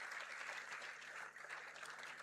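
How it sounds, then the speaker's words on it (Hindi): Crowd applause at an Indian political gathering, a brief burst of many hands clapping heard faintly and at a distance, continuous and even for about two seconds. "जोरदार तालियों से प्रणाम"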